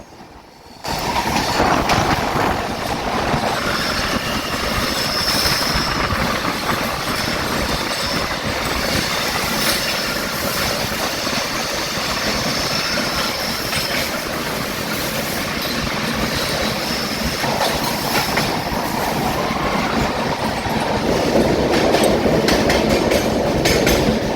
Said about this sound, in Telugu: ఇదిగోండి మళ్ళీ టన్నల్లోకి వెళ్ళిపోయింది ట్రైన్